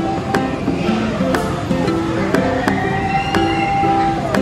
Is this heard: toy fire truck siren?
yes